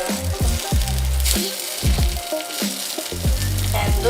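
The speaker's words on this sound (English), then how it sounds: "And then you place it into the hot oil." Mashed potato fritters fry loudly in hot oil, a dense close sizzle with crackling bursts as pieces are lowered in, continuing without any talk.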